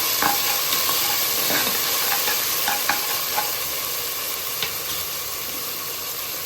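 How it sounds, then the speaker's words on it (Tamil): Ginger garlic paste being stirred into onions frying in a pan for a Tamil chicken kulambu, a steady close sizzle and hiss with soft spoon scrapes and clinks over it, no talking. "இப்போ இஞ்சி பூண்டு பேஸ்ட் வந்து சேர்த்துக்கிறேன். போட்டு லேசாக கலந்து வச்சுக்கலாம்."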